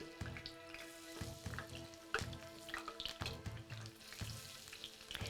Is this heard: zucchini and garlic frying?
yes